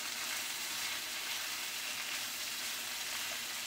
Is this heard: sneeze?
no